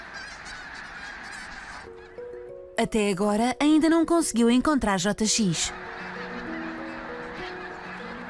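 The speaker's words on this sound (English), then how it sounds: "Os gansos estão a chegar vindos do Ártico, onde nidificaram durante o verão." Geese arriving from the Arctic, where they nested over the summer, honk in a loud, close chorus of repeated nasal calls, preceded and followed by someone speaking Portuguese.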